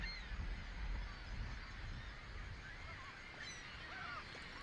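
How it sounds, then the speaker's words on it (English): Geese honking in large migrating flocks bound for Cuba, a dense distant chorus of overlapping calls over a low rumbling wind-like background, steady throughout. "Millions of birds in flocks so enormous, they blanket the sky on radar images."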